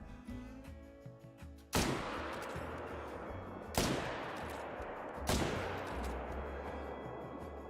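Three loud rifle shots in a hunting video game, each a sharp crack with a long rolling echo that decays slowly, spaced about two seconds apart over a quieter ambient background.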